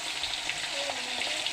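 Fish frying in hot oil, a dense, steady crackling sizzle close up that holds without a break.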